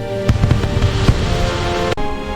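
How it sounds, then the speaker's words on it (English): Large fireworks bursting in the night sky during Vietnamese Tet celebrations, with a few loud booms early on and a sharp crack near the end over a continuous crackling, rumbling wash. "The fireworks are so big this year! Each one is like a wish bursting into the sky."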